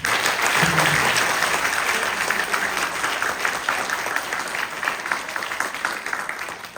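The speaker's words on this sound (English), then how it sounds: "so also give yourselves a round of applause" Audience applause at a closing speech and awards ceremony, a steady wash of clapping from a full crowd that fades slightly toward the end, with no talk over it.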